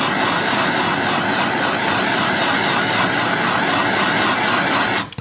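A MAP gas torch roars steadily and loudly while heating shrink tubing on Jeep stereo wiring, a continuous hiss that cuts off abruptly at the end.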